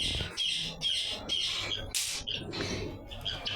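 Captive herons kept in an enclosure give repeated harsh squawks in irregular bursts, some close and some overlapping, with quieter rustling between calls and no voices.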